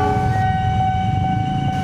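A KRL TM6000 electric commuter train runs past the Bungur level crossing with a steady, close rumble, carrying sustained tonal whines or signal tones throughout.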